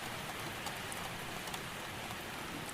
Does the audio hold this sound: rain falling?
yes